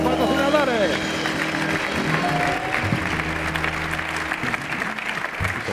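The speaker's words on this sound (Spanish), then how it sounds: "Fuerte el aplauso para nuestros patrocinadores." A studio audience on a Spanish comedy variety show applauds the sponsors; strong, sustained clapping runs throughout, with tonal music-like sounds layered on top at the start.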